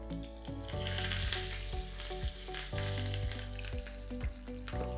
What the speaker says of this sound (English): Now just splutter a teaspoon of mustard seeds.